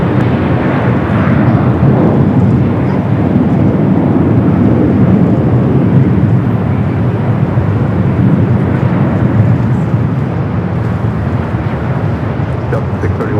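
A jet airliner landing at LAX, heard as a loud, sustained low roar with heavy wind buffeting on the microphone, steady for the whole stretch.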